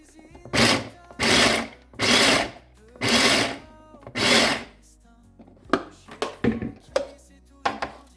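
A food processor chops endives and leeks in five loud whirring pulses of about half a second each, followed by several sharp clattering knocks of the machine and bowl.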